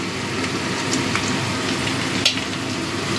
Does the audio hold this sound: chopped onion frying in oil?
yes